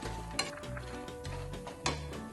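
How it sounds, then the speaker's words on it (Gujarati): Almonds dry roasting in a pan and being stirred, with soft rattling scrapes and two sharper knocks of the spoon against the pan, close up, no speech. "બદામને થોડો વાર લાગે"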